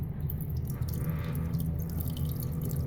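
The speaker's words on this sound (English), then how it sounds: "You can hear that pump running." A steady mechanical hum of an RV's small water pump running close by, in a Jayco Northpoint 377, with faint dripping and trickling water over it.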